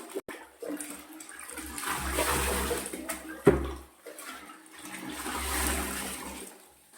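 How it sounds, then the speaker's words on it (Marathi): Leftover paneer whey and water slosh and rush in a container in two swelling waves, with a sharp knock between them. "आपण हे पाणी छान मिक्स करून घ्यायचंय"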